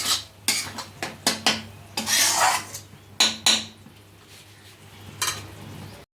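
Spice masala is roasted in a pan over a medium flame as a metal spatula scrapes and clatters against the pan in repeated close strokes, with a soft sizzle underneath.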